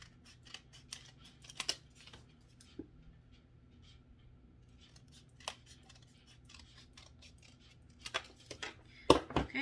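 Scissors cut out a paper leaf shape for a paper water lily craft, a series of close, crisp snips in irregular bursts with quieter pauses between, ending in a louder flurry of cuts.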